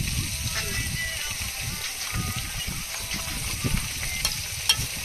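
Steady crackling sizzle of fish frying in hot oil, continuous with occasional sharper pops, close by.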